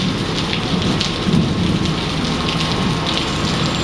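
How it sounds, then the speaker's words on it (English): Heavy tropical-storm rain pours steadily and loudly on surfaces nearby, with a low rumble of thunder rolling beneath the downpour throughout. "The rain's barely stopped now."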